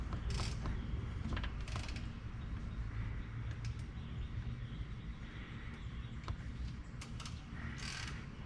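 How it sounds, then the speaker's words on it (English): A Honda engine is turned over by hand during a valve adjustment, producing close mechanical creaks and ratcheting clicks in short bursts against a low hum. "We'll rotate the engine again over to cylinder 4"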